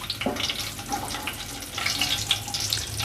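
Bay leaf, green cardamom and cloves sizzle in hot ghee in a pan, a soft steady crackle and hiss heard close up with no talking.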